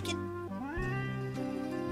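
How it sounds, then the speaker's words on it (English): A cartoon cat meows in an animated comedy, a drawn-out, wavering tonal mew lasting about two seconds over a steady background of music. "I've already taken in the Anderson's cats and the Walensky's"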